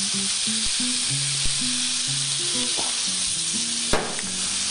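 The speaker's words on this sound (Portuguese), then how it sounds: "A gente agora vai pegar aquela cebola que a gente cortou. A gente vai dar um toque de azeite." Sliced onion sautéing in olive oil in a frying pan, a continuous close sizzle with a few sharp knocks and clinks of utensils over it, while a soft tonal hum runs beneath.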